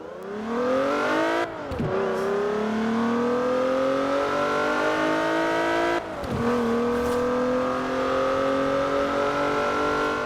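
Car engine revving up in rising sweeps in the video game Forza Horizon 4, dropping sharply twice between gear changes, steady and loud throughout.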